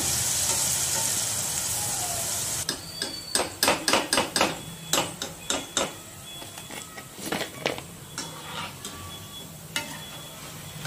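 Okra pakoda, Andhra-style bhindi 65, frying in oil: a steady sizzle under a run of sharp, irregular clacks and taps, likely a utensil against the pan, with no talking.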